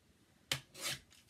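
Card stock being trimmed at the end, a sharp close snip followed by a longer soft rasping cut, quiet and brief with no talk.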